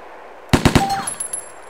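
A compact close-quarters gun in the video game DayZ fires a quick burst of three sharp, loud shots after a moment of quiet, followed by ringing echoes and a faint mechanical whine.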